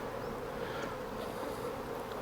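Honey bees buzzing around a hive with a strong, honey-filled colony, a dense steady hum of many wings close by, continuous and even without any voices.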